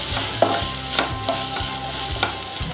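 Onions, carrots and beans stir-frying for egg fried rice, a loud close sizzle broken by brisk, rhythmic scraping strokes of a spatula against the pan, with no talking.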